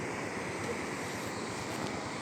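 Sea waves at Caba beach roll in as a steady, full wash of surf and wind noise, continuous and fairly close, with no talking.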